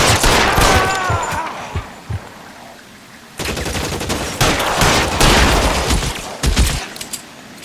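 Gunfire in L.A. Noire on PS4: loud, close bursts of rapid shots in clustered volleys, broken by a short lull, then dense firing resumes.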